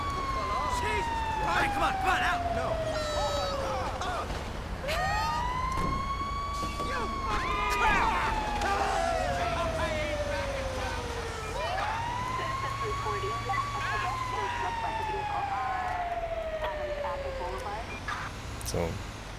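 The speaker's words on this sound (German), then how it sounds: "Mal die Sirene ausstellen, die nervt nämlich." Wailing emergency vehicle siren in the video game GTA V, likely a fire engine, sweeping up and down in long repeating cycles, loud and continuous throughout with talk underneath.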